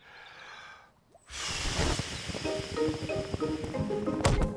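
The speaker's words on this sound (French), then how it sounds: "Je vais souffler très fort sur la voile et il va avancer." A sharp breath gives way to a long, forceful, breathy blow that whooshes steadily for several seconds, close up, with faint voices behind it.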